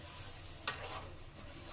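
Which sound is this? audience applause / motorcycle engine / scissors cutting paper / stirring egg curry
stirring egg curry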